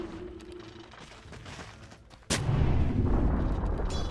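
Dota 2 battle sounds surround a tower under attack: quiet clanks and magic hits give way to a sudden loud impact, then a heavy sustained rumble of combat.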